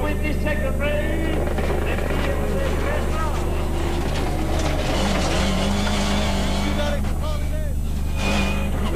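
Onboard a Ford Escort rally car racing head to head at the 1996 Race of Champions, the engine drones loudly and continuously with shifting pitch, while a commentator talks over it.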